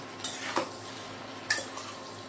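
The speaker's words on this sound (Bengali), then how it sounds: "সেদ্ধ করে রাখা কাঁঠালগুলো এখন সুন্দর মতো মিশিয়ে নেব।" Boiled green jackfruit being stirred into spices in a pan, a few sharp spoon scrapes and clinks against the metal over a faint steady background, with no talking.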